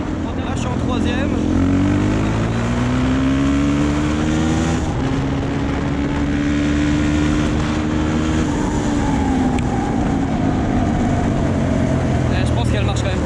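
A Suzuki DRZ motorcycle fitted with an FCR 39 carburetor revs steadily through gears, its engine drone rising and falling loudly and continuously, with popping backfires near the end.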